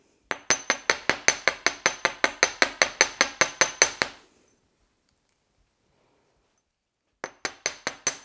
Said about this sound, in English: the reason I hammer it is when you hammer metal, it hardens it